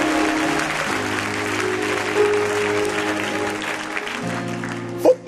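A church congregation claps together during a worship service while sustained music tones play, and a voice cuts in sharply near the end.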